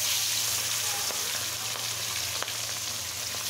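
A second batch of food fries in hot oil with a dense, steady sizzle close by, a loud continuous hiss with a faint low hum beneath and an occasional soft pop.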